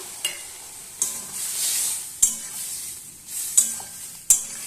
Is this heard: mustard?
yes